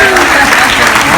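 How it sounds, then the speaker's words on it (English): Audience applause for Jackson at a cruise ship magic show, a steady wash of clapping that fills the short moment without a break. "A round of applause for Jackson."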